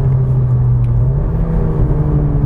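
A 2019 Cupra Ateca 300PS SUV engine drones steadily from inside the car, a low, loud, continuous rumble with a slight rise in revs as the throttle is blipped, with no talking.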